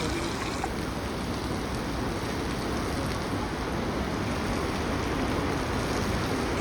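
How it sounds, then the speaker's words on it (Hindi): Fast-flowing river water rushes through a deep gorge along the Kedarnath trek, a loud, steady broadband roar that stays constant throughout without talk. "देखो कितना तेज पानी बह रहा है भाई"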